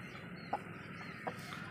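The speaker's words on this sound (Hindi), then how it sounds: "तो मुर्गी तो निकल चुकी है बाहर" A chicken clucks a few short, soft times at a backyard pond setting, brief separated calls heard faintly over steady background hiss.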